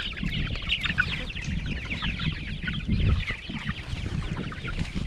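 Backyard chickens kept by first-time owners cluck steadily in a busy chorus, with low scratching and movement noises and no talk.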